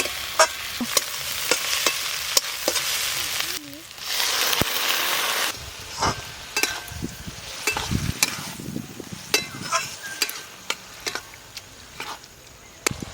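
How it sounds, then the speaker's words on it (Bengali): Fried potatoes tipped into onion and spices frying in a pan: a close sizzle with repeated clacking stirs and scrapes of a spatula, louder bursts scattered throughout. "পেঁয়াজ মুড়িটা মশলার সাথে ভালো করে ভেজে নিয়েছি এবার ভাজা আলুটা দিয়ে দেবো"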